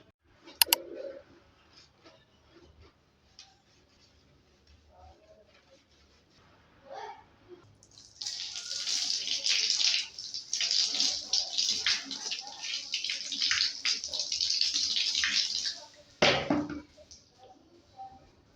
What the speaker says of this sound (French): je finis ma douche